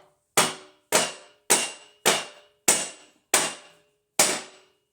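Seven sharp metallic clangs ring out from a metal table frame being bumped, each striking hard and decaying quickly, spaced roughly half a second apart, close and loud with no talking.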